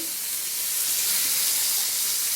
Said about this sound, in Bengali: এবার টমেটো কুচিটাকে আমি কড়ার মধ্যে দিয়ে দেবো